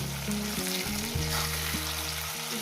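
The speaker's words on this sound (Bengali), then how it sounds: "এবার এটাকে আমি ভাজবো" Fish fries in a pan with a continuous close sizzle, partly covered by prominent background music.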